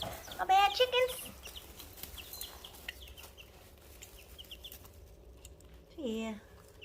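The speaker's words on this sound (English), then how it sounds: "My bad chickens." Backyard chickens and young chicks cluck and squawk in short bursts close by, with a louder cluster early and another near the end over a quiet farmyard background.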